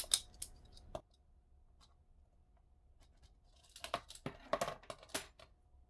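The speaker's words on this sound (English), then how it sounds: "And I shall just cut those." Scissors snipping fabric for a sewn purse: a few crisp cuts near the start, a quiet gap, then a quick cluster of sharp close snips toward the end.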